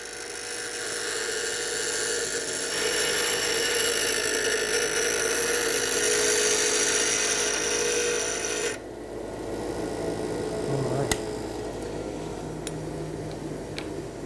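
A bench grinder shapes the hollow-ground bevel of a woodworking chisel, a steady loud whine and grinding hiss that drops off sharply partway through, leaving a quieter hum with a few sharp ticks.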